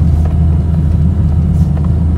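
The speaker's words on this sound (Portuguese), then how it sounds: "Vou passar numa lombadinha ali pra vocês" A car with slim threaded coilover suspension rolls over a small speed bump, heard from inside as a loud, steady low rumble with faint thumps from the suspension.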